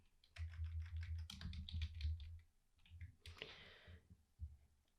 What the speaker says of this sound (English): And now we're going to type active workbook dot sheets